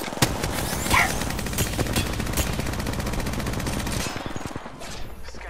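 Rapid automatic gunfire in the battle royale shooter Apex Legends, a dense sustained burst of shots with a couple of louder cracks near the start, running continuously and fairly loud before thinning out toward the end.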